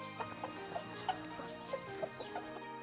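Chickens on a farm clucking in a steady series of short, moderately close calls, several distinct clucks spaced through a quiet background with no talking.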